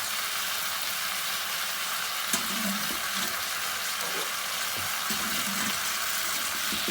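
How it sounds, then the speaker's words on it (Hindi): Tandoori chicken frying covered over a low flame on a gas stove, a steady soft sizzle and hiss running throughout with a few faint clinks, no talking. "इसको लाइट आंच पर हम लोग ढककर ही फ्राई करेंगे"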